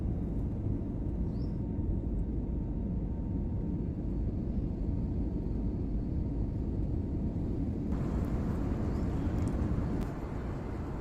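Steady, loud low-frequency engine rumble fills an airplane cabin in flight over the Himalayas without a break, with a faint shift in tone near the end; no voices are heard.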